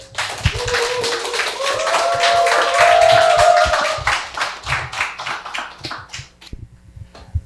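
Church congregation at a Friday worship service applauding warmly, dense clapping that swells, holds and then tapers off to a few last scattered claps.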